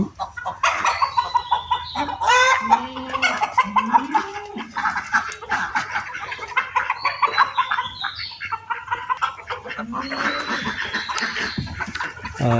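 Chickens on an integrated farm that also keeps goats and ducks cluck and squawk continuously at close range, several birds calling over one another throughout.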